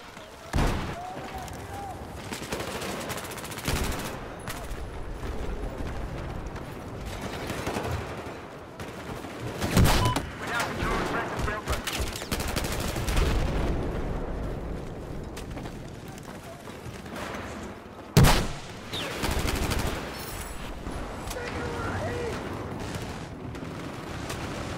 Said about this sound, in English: Sometimes the M4 shoots too fast.